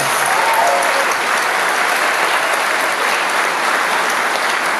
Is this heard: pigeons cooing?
no